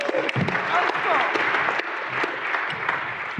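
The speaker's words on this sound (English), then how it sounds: "Get a round of applause for server-side bugs." Crowd at a hacker security awards ceremony applauds a nominated category, sustained clapping from many hands with scattered sharp claps and faint whoops, moderately loud and continuous.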